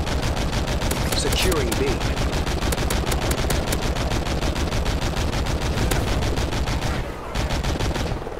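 Dense, continuous automatic gunfire fills a Call of Duty match, loud and unbroken, with a player's voice speaking over the shooting.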